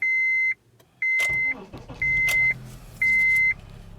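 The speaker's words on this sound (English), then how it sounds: "I'm going to start the engine" Regular electronic beeps repeat about once a second while a Honda CR-V engine cranks and catches, settling into a low idle rumble beneath the tones.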